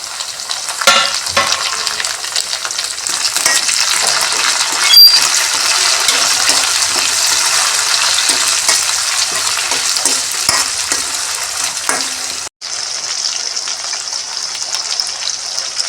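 Tomatoes frying in oil with onion and garlic for a sundakkai kuzhambu, a loud continuous crackling sizzle close by, broken by a short cut before the frying resumes.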